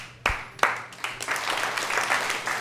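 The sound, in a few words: hands clapping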